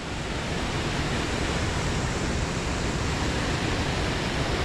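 A dense, steady roar of rushing water, like small falls in a river, continuous and loud with no variation or voices.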